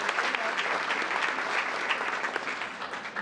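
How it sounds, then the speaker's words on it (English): A town council meeting audience gives a group a big round of applause, dense continuous clapping at even strength from a crowded room throughout. "Please join me in giving Group 2 a big round of applause"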